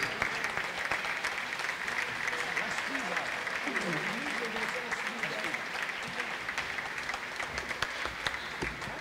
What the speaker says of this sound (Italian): Per l'applauso vostro, l'applauso del Modena Est